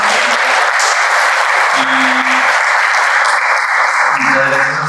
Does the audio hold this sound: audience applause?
yes